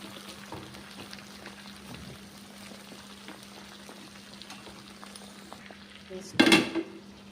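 Okra seeds fry and sizzle in oil in a pan, a steady soft crackle with occasional stirring, ending in a brief loud clatter of a spoon against the pan.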